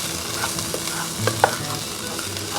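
White onion, minced, frying in a pan for a jumbo shrimp masala curry, a steady close sizzle with a few scrapes and taps of a spoon stirring, no talking.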